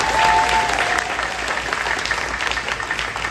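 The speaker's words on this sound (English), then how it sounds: "So let's give them a round of applause" Audience applause at a live couples game show, a dense burst of clapping that starts full and stays steady for a few seconds.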